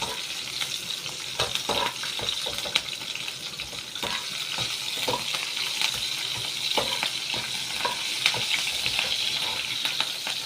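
Green chilies fry in oil with a moderate, steady sizzle and crackle, broken by light scrapes and taps of a stirring spoon against the pan; no voices are heard.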